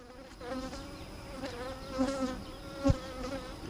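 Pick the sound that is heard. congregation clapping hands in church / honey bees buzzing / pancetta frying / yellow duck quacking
honey bees buzzing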